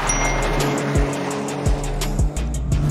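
A 2023 Toyota Corolla GR with GR4 all-wheel drive cornering hard on a track, its engine droning steadily with a few sharp thumps and tire squeal as it pulls through the turn, loud and close with no voices.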